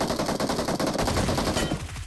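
Rapid automatic gunfire from a mobile shooter game played on a OnePlus phone, loud and continuous with dense overlapping bursts and no talking.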